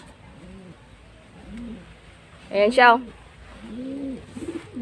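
Soft, low coos of a homing pigeon repeat nearby in short phrases, with a person briefly speaking over them in the middle.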